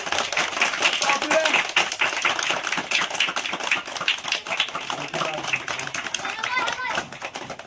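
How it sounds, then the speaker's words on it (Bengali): Children clap together at a free coaching center event, a dense run of quick, uneven hand claps lasting several seconds, with voices talking over it. "বাচ্চারা একটা হাততালি দাও সবাই।"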